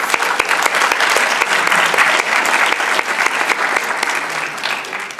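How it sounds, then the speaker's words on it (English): A school awards audience applauds loudly and steadily for several seconds, dense clapping filling the room without any speech. "So give them a round of applause."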